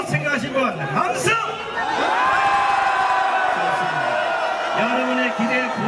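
A large outdoor rally crowd erupts in loud cheering, whoops and shouts, with bursts of amplified voices cutting through the sustained roar.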